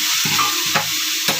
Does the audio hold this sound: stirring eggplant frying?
yes